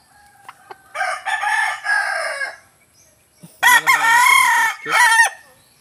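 Loud, close gamefowl calls: a rooster crows twice in long drawn-out bursts, with a few short clucks from hens before and between.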